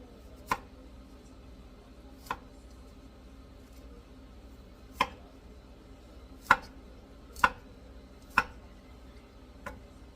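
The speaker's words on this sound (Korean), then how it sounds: "송이송이 잘라주시고 이렇게 2등분 아니면은 큰 거나 4등분씩 하셔서 먹기 좋게 잘라주세요." Vegetable florets cut into halves or quarters on a board for pickles, heard as sparse, isolated knife chops about a second or two apart over a quiet room.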